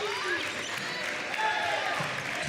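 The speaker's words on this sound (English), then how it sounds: "Here comes the crowd." A crowd at a regional semifinal volleyball match cheers and claps after a point. The noise is a steady, moderately loud roar with a few whistling tones on top.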